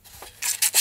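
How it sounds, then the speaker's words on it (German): Sandpaper rubbing across the bonding area of a composite F3K glider wing, close and dry: a faint scrape then several louder rasping strokes in quick succession. "schleifen wir mal eben den Bereich an, den wir nachher zum Verbinden der Fläche benutzen wollen"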